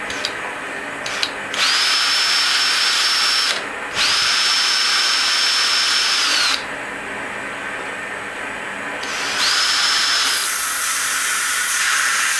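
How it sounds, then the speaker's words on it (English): A power drill bores a hole in three loud bursts with steady high-pitched whines, separated by brief pauses and a quieter stretch in the middle. "I should have drilled a smaller hole."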